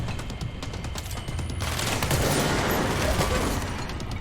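The Spin weapon firing in the video game Control: a dense, continuous burst of rapid shots that grows into a roaring wash of fire. Early on the shots stand out as distinct cracks, and later they blur into a steady loud roar.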